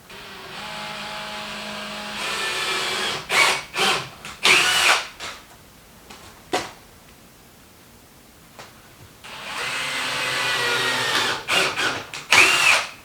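A power drill drilling through reclaimed timber sleepers whirs in two long runs separated by clattery pauses and knocks, close and loud, with a brief slowing whine at each run's end.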